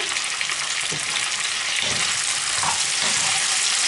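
Beef sirloin drops into a pan of peppers already frying, and a loud, steady sizzle fills the clip throughout, with soft stirring scrapes underneath and no voices.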